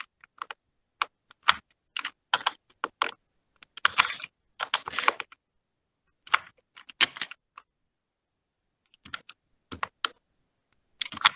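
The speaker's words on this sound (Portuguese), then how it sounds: "Vou digitar no teclado mesmo o símbolo" Keys on a computer keyboard clatter in short irregular bursts of clicks, close and crisp, with quiet pauses between groups of keystrokes.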